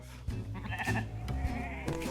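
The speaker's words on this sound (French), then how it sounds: "Ça, c'est un mouton." A sheep bleats close by in a drawn-out wavering cry, followed by a second shorter bleat, over a low background rumble.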